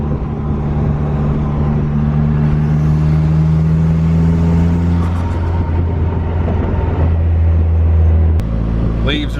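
Minivan swapped with an SRT4 engine cruising along a Tennessee road, a steady close engine drone and road rumble with a shift in tone near the end, under people talking.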